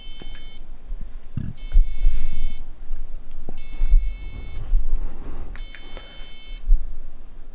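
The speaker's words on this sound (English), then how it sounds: "that one's a passive buzzer" Three separate electronic buzzer tones sound, each about a second long with a harsh, reedy timbre, separated by low clicks and handling noise.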